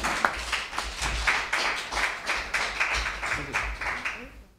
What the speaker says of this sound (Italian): Accogliamolo con un applauso, Damiano.